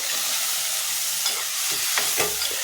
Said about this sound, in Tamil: காய் வதங்கட்டும்.